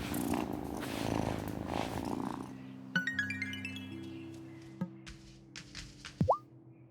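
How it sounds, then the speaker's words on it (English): A cat purring in the Wylde Flowers video game, a soft rumbling purr at the start followed by gentle chimes, plops and a rising ding amid the quiet game ambience. "Aw, who's a good kitty?"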